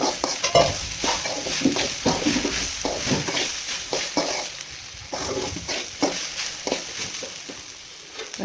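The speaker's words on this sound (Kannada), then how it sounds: "ಇನ್ನು ಸ್ವಲ್ಪ ಆಯಿಲ್ ಹಾಕ್ಕೊಂಡು ಮತ್ತೆ ಇದನ್ನು ಮಿಕ್ಸ್ ಮಾಡ್ಕೊತಾ ಇದ್ದೀನಿ." Lady's finger (okra) fries in oil in a pan while a spatula stirs it, giving repeated close scraping and tossing strokes over a continuous sizzle.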